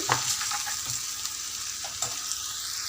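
Bitter gourd tamarind curry with sesame powder is stirred in a hot pan, a close, continuous sizzle punctuated by soft scraping strokes of the spoon, with no one talking.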